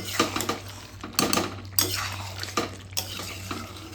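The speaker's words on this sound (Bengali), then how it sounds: "ভালো করে মেশাতে হবে।" A utensil stirs chicken in a metal pot with no added oil, giving repeated scraping clanks and rattles in irregular strokes, close and fairly loud.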